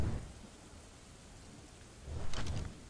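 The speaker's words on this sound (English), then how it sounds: "this rain is really looking gorgeous" Steady rain falls in the survival video game ARK, with a low rumble of thunder at the start and another swelling roll near the end, heard alone without voices.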